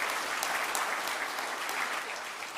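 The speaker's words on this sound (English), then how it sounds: "Can we give them all a round of applause?" An audience at an energy conference in Namibia applauds a panel, producing a short burst of steady, moderately loud clapping from many hands that fades slightly toward the end.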